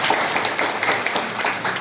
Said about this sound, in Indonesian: saya minta tepuk tangan ada di sini semua teman